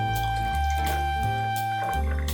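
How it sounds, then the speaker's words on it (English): Green mango juice pours into a glass in a short, steady liquid stream with faint dripping and trickling, close and fairly quiet, with no talk over it. "we're just going to pour a nice glass"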